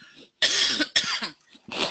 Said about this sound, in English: I just have to cough for a second